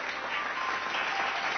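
A church congregation claps together in steady, dense applause, the sound filling the room evenly throughout with no pause or break.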